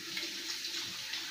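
Tap water runs steadily while a large fish is washed in a sink, a continuous mid-level splashing rush with no voices.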